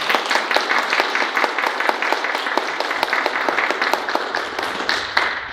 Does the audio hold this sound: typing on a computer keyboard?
no